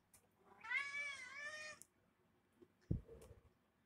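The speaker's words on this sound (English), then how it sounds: "He's a very talkative kitty," A cat gives one drawn-out, wavering meow close by, followed by a quiet pause and a soft thump.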